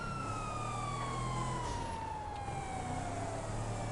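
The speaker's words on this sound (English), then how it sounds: "See how traffic reacts to the sirens though." Emergency vehicle sirens in the GTA Online video game, a steady wailing tone sweeping slowly downward over continuous engine and traffic rumble, with no one speaking.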